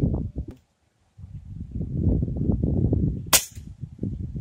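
FX Crown air rifle fires a single sharp shot while hunting yellow-vented bulbul outdoors, a sudden crack near the end over a background of rustling and low handling noise.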